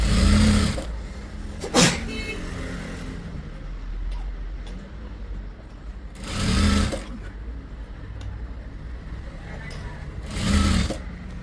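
A sewing machine stitches an embroidered blouse in three loud whirring bursts, each a second or so long, with quieter handling noise and someone talking between runs.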